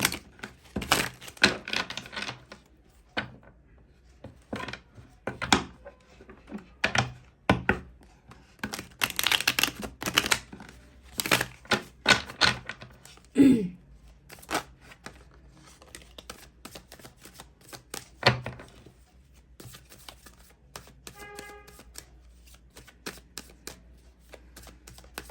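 Tarot cards are shuffled by hand in long runs of crisp riffling and slapping bursts, close and fairly loud, broken by short pauses.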